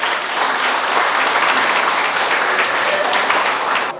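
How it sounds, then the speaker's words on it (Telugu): Audience applause at a Bhagavad Gita recitation gathering, a dense, steady wash of many hands clapping loudly throughout, without pause. "గట్టిగా ఒకసారి చప్పట్లు కొట్టాలి"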